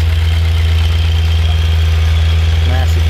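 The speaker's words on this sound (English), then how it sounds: "Goes that John Deere 820" John Deere 820 tractor engine running at a plow day, a loud, steady low thumping idle close by with a voice briefly over it.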